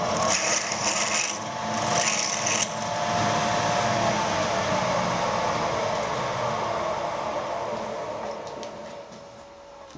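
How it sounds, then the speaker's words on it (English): An 8mm drill bit bores steadily through a cylinder liner puller part with a continuous whirring grind that slowly fades, ending with a faint high whine. "we'll put an 8mm drill through and see how much clearance that actually gives us"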